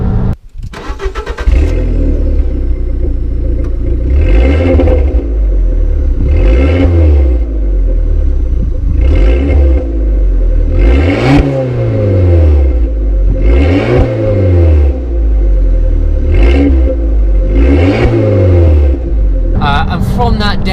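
A small Abarth 500 engine cranks and fires up close, then revs repeatedly in steady rising-and-falling sweeps over a rumbling idle, loud and raspy throughout.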